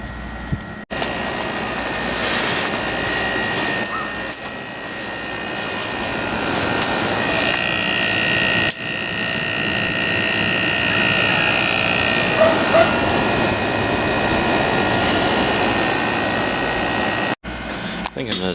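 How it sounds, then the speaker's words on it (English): A 6200 BTU Carrier window air conditioner with a Daewoo compressor and General Electric fan motor runs with a steady whirring hum and airy fan rush, close and continuous, broken by a few brief handling clicks and dropouts. "This is a 6200 BTU with a Daewoo compressor and a General Electric fan motor."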